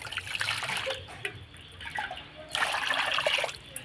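Water poured into a basin while rinsing grated raw potato to make homemade cornflour, a steady splashing trickle that swells and eases in bursts, close up with no talking.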